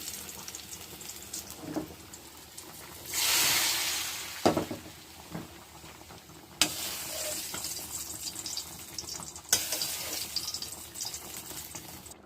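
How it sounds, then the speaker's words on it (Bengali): Hot onion tempering is poured over cooked mixed vegetables and hisses into a brief watery sizzle, with a few sharp spits and clatters afterward, close and fairly quiet. "বাগার ঢেলে দিচ্ছি"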